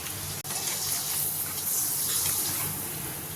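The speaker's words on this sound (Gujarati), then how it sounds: "એવી રીતે આપણે બીજું પાપડ પણ તળી લઈશું" Another thin potato papad fries in hot oil, a continuous rushing, hissing sizzle that holds steady at close range with no talking.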